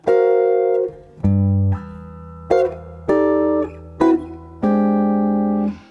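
Clean jazz guitar chords ring out one after another, six sustained two-note tenths shapes with brief gaps, played alone and moderately loud.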